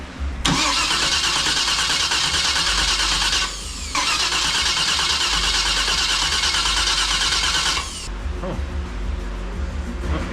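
A 400-horsepower Camaro engine cranks over loudly and steadily for several seconds, pauses briefly, then cranks again until it cuts off, close to the car with faint talk nearby.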